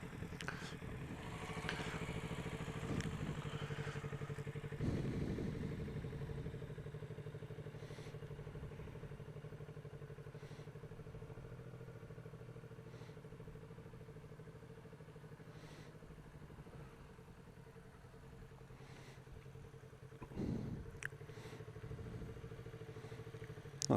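A motorcycle creeps along at low speed under careful clutch control, its engine holding a steady low hum with small throttle variations and a couple of louder clunks, under faint background noise.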